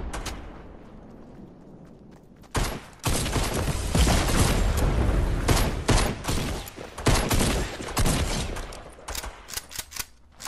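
Shotgun fire in the battle royale game Fortnite, a quiet start giving way to a dense run of loud, sharp, closely spaced blasts that continue through most of the stretch.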